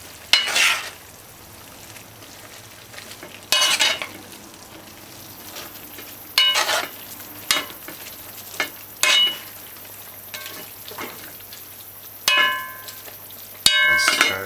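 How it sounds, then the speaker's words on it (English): Bok choy and chicken frying in a covered pan, stirred in short bursts of scraping and clattering sizzle that recur every couple of seconds over a faint steady frying hiss. "You just stir it now."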